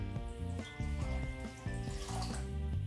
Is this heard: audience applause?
no